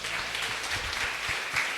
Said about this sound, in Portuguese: E aplauda Jesus.